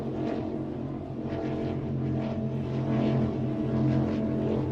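Phantom race boat engine with a raised tractor-style exhaust at a powerboat race day, a very loud steady droning roar that holds constant throughout with no talk.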